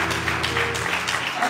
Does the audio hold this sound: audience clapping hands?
yes